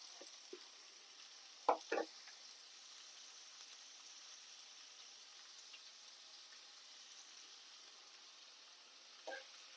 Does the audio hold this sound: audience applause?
no